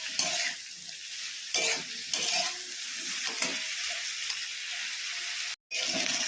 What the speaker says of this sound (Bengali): একসঙ্গে সব সবজিগুলো লাল লাল করে ভেজে নিয়ে